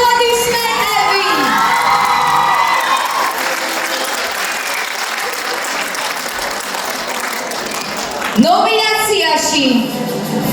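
A crowd at an awards ceremony applauds and cheers loudly and steadily, with high excited shouts and whoops rising over the clapping near the start and again toward the end.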